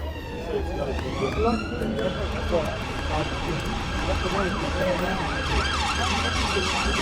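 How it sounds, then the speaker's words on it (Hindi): A wailing police siren rises and falls continuously over steady traffic rumble in Scotland, loud and fairly close, with a second siren tone joining partway through. "पुलिस का सायरन आ रहा है ना"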